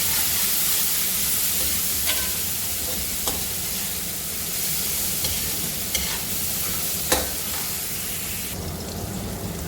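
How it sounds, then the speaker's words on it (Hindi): Tomatoes frying with softened onions in a pan, a steady close sizzle with occasional scraping clicks from a stirring spoon, no talk. "ये प्याज सॉफ्ट हो गए हैं, इसमें टमाटर ऐड कर देंगे। इनको भी सॉफ्ट ही करना है।"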